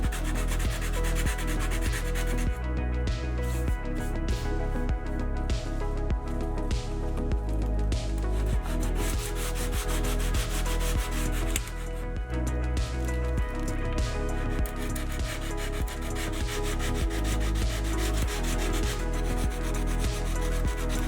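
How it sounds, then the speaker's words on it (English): 100-grit sandpaper rubs rust off the body of a JDM 180SX in steady, rhythmic back-and-forth strokes, close and continuous, partly mixed with background music. "I'm starting off with a 100 grit sandpaper just to take care of the rust"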